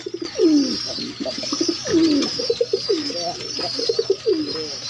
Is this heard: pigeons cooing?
yes